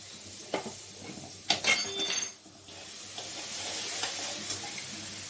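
Water poured into a frying spice paste sets off a sudden loud burst of sizzling, with spatula scrapes before it and a steady hot sizzle continuing afterward, close and with no talk.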